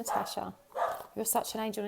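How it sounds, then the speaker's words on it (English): A pet dog barks and yips a few times in the background while someone talks over it indoors. "I'm so sorry about the dog barking."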